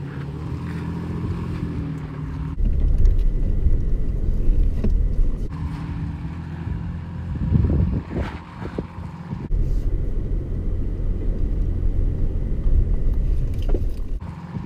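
A Toyota Tacoma TRD Sport truck in four-wheel drive rumbles steadily over rough off-road ground, its low engine drone loud and continuous with shifts in level and occasional bumps, and no talking.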